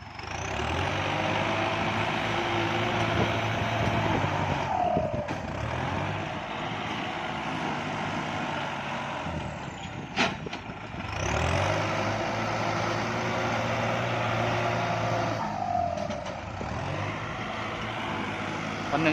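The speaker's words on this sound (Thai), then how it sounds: "รถไถทำงานได้เต็มกำลังนะครับ" A Kubota tractor working a rice field, its engine droning steadily and loud with repeated rising and falling whines as it pulls through the paddy.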